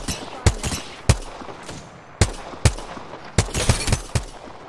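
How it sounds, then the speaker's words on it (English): Players shooting at each other in Apex Legends, with loud, sharp gunshots landing in uneven single cracks and short clustered bursts, close and punchy. "they're shooting each other right now"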